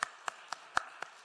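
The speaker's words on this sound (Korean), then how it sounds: "자, 여러분 박수 받으세요." Five sharp claps ring out from a church congregation applauding during a Sunday service, quick and slightly uneven in rhythm, moderately faint and roomy, with no voices over them.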